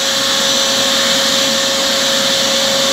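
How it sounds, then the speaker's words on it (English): A vacuum cleaner runs close and loud with a steady, unbroken whine and rushing airflow while it does the hoovering. "how else do you think a disabled man with back and hip issues does his hoovering?"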